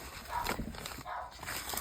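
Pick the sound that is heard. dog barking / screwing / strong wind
dog barking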